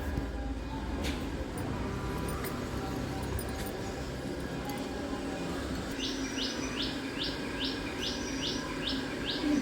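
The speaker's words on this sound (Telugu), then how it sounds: "అలసట అనేదే తెలియని పక్షి వచ్చేసింది, ఒకటే అరుస్తుంది అంతే." A tireless bird calls over and over in a steady repeating series, loud and close, during a Sunday morning outdoors, above a constant low background rumble.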